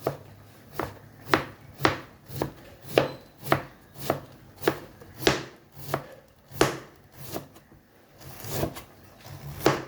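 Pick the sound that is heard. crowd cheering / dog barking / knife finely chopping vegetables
knife finely chopping vegetables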